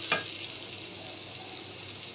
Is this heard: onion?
yes